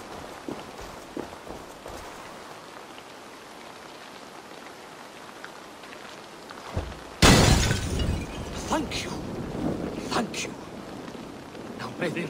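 Oil jars shatter onto a fire in Assassin's Creed Valhalla with a sudden loud crash partway through, followed by crackling, spattering debris over a quiet rainy background.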